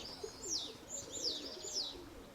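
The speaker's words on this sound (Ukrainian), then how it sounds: "у мене є ще одне голубеня" A young pigeon gives soft, faint warbling calls, several short rising-falling notes in a row against a quiet background, with no talk.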